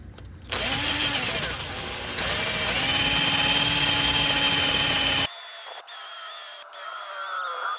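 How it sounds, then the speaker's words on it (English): A cordless drill spins a wire brush against a rusty Nissan GT-R wheel hub, a loud steady whining grind that shifts pitch under load, then cuts to a lighter scraping buzz. "I'm just using a wire brush and a cordless drill."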